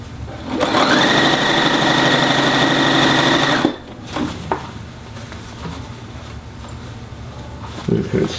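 A sewing machine runs steadily for about three seconds, stitching slowly along a gentle curve of fabric with a whirring motor and rapid needle patter, then stops, leaving quiet handling noises and a few light taps.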